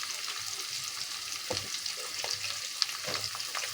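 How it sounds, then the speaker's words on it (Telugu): Onions, green chillies, curry leaves, drumstick pieces and ridge gourd sizzle steadily in hot oil for a ridge gourd and drumstick curry, a continuous close frying hiss broken by a few soft stirring scrapes. "చూడండి ఇవన్నీ వేగుతున్నాయి కదా"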